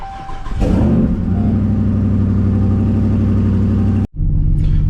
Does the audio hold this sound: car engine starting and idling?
yes